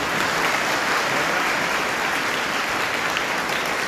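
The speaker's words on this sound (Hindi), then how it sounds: "जोरदार ताली मिल चाहिए।" An audience at a public employment event with IAS officer K K Pathak gives a loud, dense applause that holds steady and close throughout, with no voices over it.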